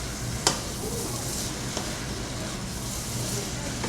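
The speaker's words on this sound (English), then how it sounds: "let's stir it up just a little bit because that sauce is thick" Broccoli and pork in a thick sauce being stirred in a big pot, giving a steady soft sizzle and bubbling bed with a sharp scrape of the utensil near the start and a few fainter knocks after.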